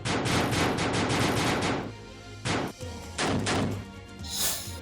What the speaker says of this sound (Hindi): 17 राउंड चली गोलियां।